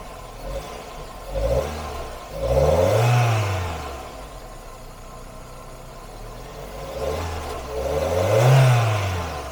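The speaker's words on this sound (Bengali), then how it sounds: "ইঞ্জিনের সাউন্ডটা স্মুথ আছে, অনেক স্মুথ সাউন্ড।" A 1999 Toyota Corona Premio diesel engine is revved twice, each time climbing from idle to a rising whine and sinking back, heard close with no talking.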